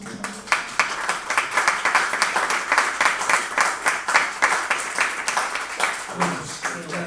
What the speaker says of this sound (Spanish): voy a pedir también un aplauso para ellos